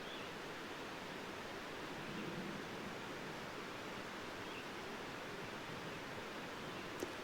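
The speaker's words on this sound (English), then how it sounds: "just the sound of running water" Running water in the Arkansas Ozark National Forest, a soft, even rush of flowing water with steady hiss and no breaks, faint and distant in an otherwise still setting.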